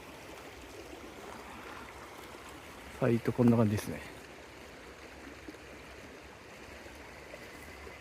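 A river flows steadily beside a solo campsite, a constant even rushing wash that runs throughout, with a person speaking briefly over it partway through.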